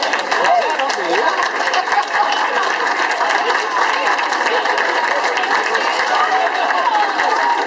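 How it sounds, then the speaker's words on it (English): Wedding guests applauding after a toast, a dense, steady wash of clapping from a crowd filling the room, loud and sustained with voices mixed in. "Great big round of applause for a very nicely done toast."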